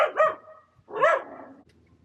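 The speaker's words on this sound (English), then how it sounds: "Whoa, there's a puppy there." A puppy near a house outdoors lets out two sharp, clear barks about a second apart, close to the microphone, with a faint rustle after.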